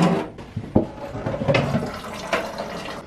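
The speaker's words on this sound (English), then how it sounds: "Let me wash." Water running from a kitchen tap during washing up, an uneven splashing gush with a few louder spatters, close by and without talking.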